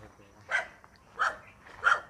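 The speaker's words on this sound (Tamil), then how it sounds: "அந்த நாய் தாங்க நம்மளை பார்த்து குலைச்சிச்சு" Three sharp dog barks, evenly spaced about two-thirds of a second apart, ring out at a moderate distance near a waterfall, with the dog barking at people and no talk over them.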